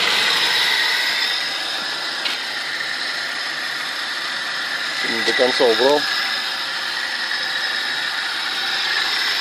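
A cold Audi 100 with a 2.3-litre carburetor engine runs with the choke partly pulled, a steady, even hum with a brief faint squeak, as someone speaks a few words midway.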